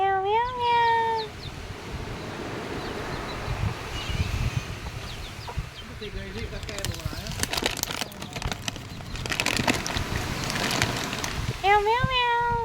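Cats meow repeatedly, a clear rising call at the start and another near the end, with scattered fainter cries, clucking fowl and shuffling background noise in between.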